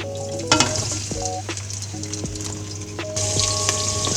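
Onions frying in hot oil for chicken biryani, a loud close sizzle with stirring clatter and clinks of utensil against the pot.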